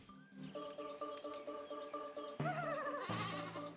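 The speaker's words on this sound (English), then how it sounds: "Summon the goats." Several cartoon goats bleat in quick succession in the video game Cult of the Lamb, wavering calls stacking up and overlapping near the end, with game music underneath and no talk.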